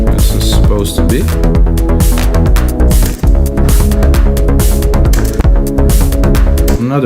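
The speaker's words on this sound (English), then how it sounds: "I'm not a big fan of this clap" A trance beat plays loud and dense, with a sharp electronic clap sample landing on a regular rhythm over a pumping kick, bass and synth layers, driving steadily throughout without voices.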